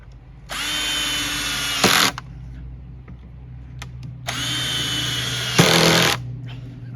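Cordless drill with a clutch driving screws into the wooden frame of a Langstroth beehive, two loud sustained whirring runs, each ending in a brief harsher burst as the clutch slips, with a quiet pause between them.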